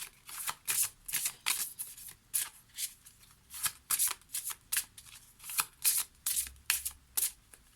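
Oracle cards from an angel-themed deck are shuffled by hand in quick riffling bursts, close and crisp, repeating in a steady rhythm with brief gaps between each pass and no talking.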